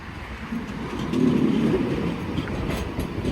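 A tram on a shuttle service between Royal Randwick and Randwick rumbles steadily as it pulls into a siding track to turn around, with a low rolling drone and faint rail clatter.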